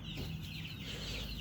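A young duckling raised from an incubator peeps in a steady run of soft, high calls close by, over a constant low background hum.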